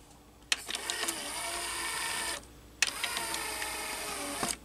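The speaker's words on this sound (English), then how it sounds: "And there you have this motor that turns." Small motor turning a gear inside a Technics RS-TR170 dual cassette deck with motorized door, a close, quiet mechanical whir in two runs, each starting with a click and ending in a brief pause.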